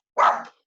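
A single short, sharp dog bark, close and fairly loud, with no other sound around it.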